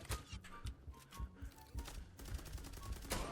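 Rapid bursts of gunfire from the online shooter game Zula rattle in quick repeated volleys at moderate loudness, shot after shot with barely any pause between them.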